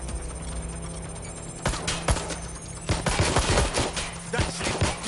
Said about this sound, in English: Providing suppressing fire.